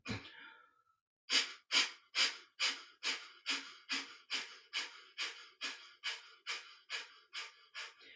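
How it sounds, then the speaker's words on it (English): Strong, rhythmic breaths through the nose driven from the stomach during a beginner Kundalini yoga exercise, a fast steady series of about fifteen sharp, close, loud exhalations after one longer breath. "you can close your mouth and start breathing through your nose"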